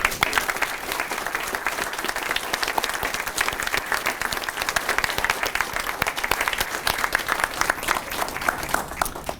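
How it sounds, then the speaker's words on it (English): Sustained applause from a sizable crowd, even and continuous, a steady wash of many hands clapping at once without any voices over it. "Give him a round of applause."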